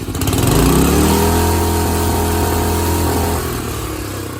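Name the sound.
old engine on a hand-controlled shifter go-kart running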